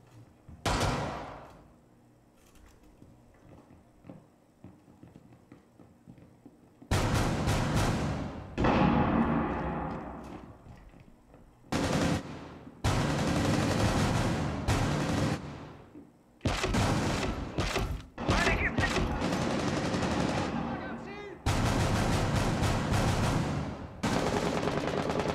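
Gunfire in the tactical shooter game Rainbow Six Siege: a faint shot early on, then several loud stretches of rapid automatic bursts separated by short quiet gaps.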